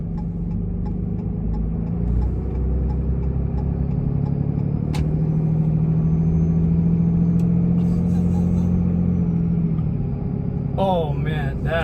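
A truck fitted with a cold air intake and an exhaust brake runs with a steady, loud engine rumble that swells in the middle and carries a faint whistle, while people talk near the end.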